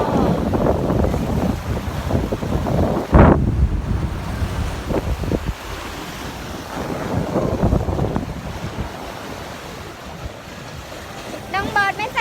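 Sea waves and gusting wind roar around a boat on a sea fishing trip, loud and close, with wind buffeting the microphone, a sharp splash-like burst early on and faint voices.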